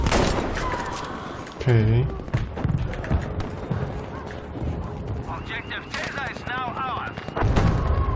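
Gunfire and artillery blasts in a Battlefield V 64-player Conquest match, dense bursts and booms running throughout under two players talking over voice chat.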